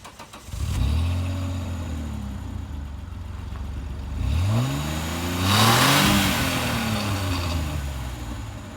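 A 1996 Renault Espace II with a 2.8-litre V6 making 150 horsepower starts and idles, then revs up in two rising, sweeping bursts, loud and close with no talking.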